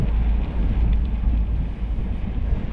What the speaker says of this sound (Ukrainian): Ой, вітер в спину хорошо.